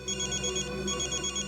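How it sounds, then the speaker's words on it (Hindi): A telephone rings in short repeated electronic trills, a steady pulsing pattern at moderate level with nothing else over it. "ये तो उसी के डब्बा का फोन है।"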